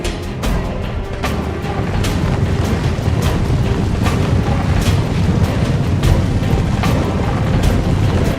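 Artillery cannon fire in a strategy battle game: a steady barrage of deep booming shots, sharp thuds repeating every half second or so over a constant rumbling battlefield din, loud and without talk.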